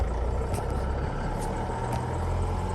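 A T1N Sprinter van's engine runs at a raised high idle, a steady close diesel drone with a low rumble and faint clanks, continuous and without speech.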